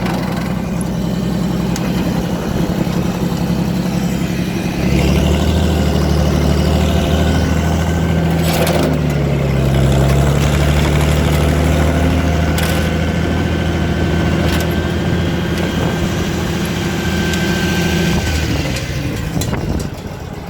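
A stuck skid loader idles steadily, with a low engine rumble that deepens and grows slightly louder partway through and then settles, and no talk over it.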